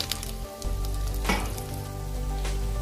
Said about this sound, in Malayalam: ഇതിപ്പം നമ്മുടെ മീൻ നന്നായിട്ട് ഫ്രൈ ആയിട്ടുണ്ട്.